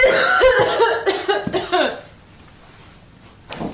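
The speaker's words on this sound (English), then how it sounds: "I can't stop coughing" A burst of several harsh, rapid coughs up close from a sick person, then quiet, ending with one short cough.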